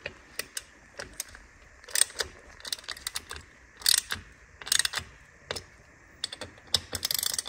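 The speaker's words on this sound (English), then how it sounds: "So I'm going to swap over to a quarter drive ratchet now." A quarter-inch drive ratchet tightens exhaust link pipe bolts on a BMW R NineT motorcycle, heard close as short bursts of crisp pawl clicking separated by brief pauses.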